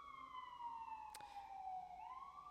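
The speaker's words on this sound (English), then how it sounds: "Tuned into the sirens." Wailing emergency vehicle siren sweeping slowly down and back up in pitch, faint and distant, with a brief sharp click partway through.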